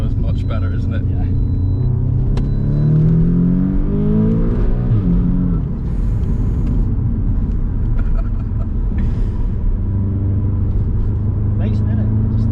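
An Audi S3 8V pulls hard in fourth gear, its engine a loud, close in-cabin drone that climbs in pitch as it accelerates, with people talking over it.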